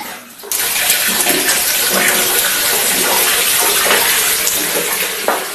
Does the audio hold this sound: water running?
yes